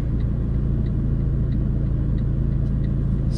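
Steady low rumble of a Fiat Abarth 695 Tributo Ferrari with a 1.4 litre turbo engine, droning evenly and continuously from inside the car, with faint periodic ticks above it.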